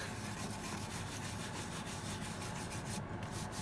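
A soft, steady rubbing of wax worked by hand into an ammonite fossil, a quiet continuous friction sound heard close up with no talking.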